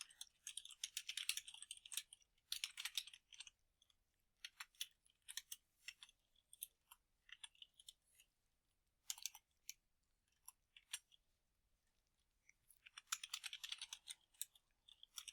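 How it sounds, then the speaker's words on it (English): Bursts of quiet keyboard typing, clattering key presses in irregular runs with short pauses between them, close by and fairly soft. "I'm going to press enter twice and continue typing."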